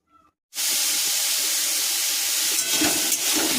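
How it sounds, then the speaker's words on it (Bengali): Bitter gourd dropped into hot oil in a pan, a quiet moment then a sudden loud, even frying hiss that carries on close up, with faint rustling near the end. "প্রথমে উচ্ছেটা ভেজে নিচ্ছি"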